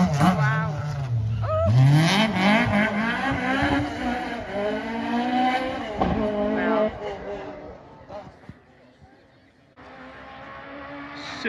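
A Peugeot rally car engine screams close by on a rally stage, revving hard through rising gear changes as it races past, then fades into the distance; voices talk underneath.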